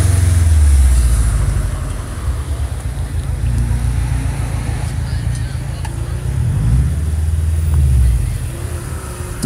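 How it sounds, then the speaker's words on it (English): A Porsche Boxster S racing at an autocross event, its engine revving up and down in waves as it accelerates and slows, loud and fairly close, with a commentator talking over it. "Richard Russo. His 213 Porsche Boxster S"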